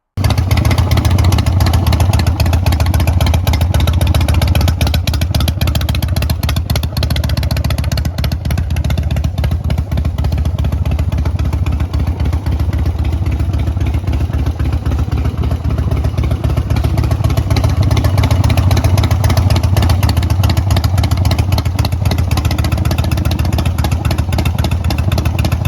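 A 1989 Harley-Davidson Evo Softail engine runs steadily and loudly throughout, a continuous low throbbing idle with a clattery mechanical edge and no talking.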